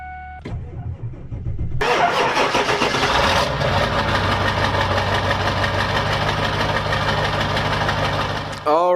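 A Ford F250 Super Duty pickup truck engine cranks briefly, then roars to life and settles into a loud, steady idle close by.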